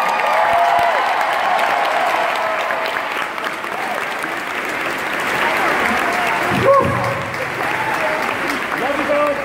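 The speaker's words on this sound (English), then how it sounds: "Give her a round of applause." A rock concert crowd claps and cheers loudly and steadily, with scattered whoops and shouts rising over the applause and a voice speaking over the noise partway through.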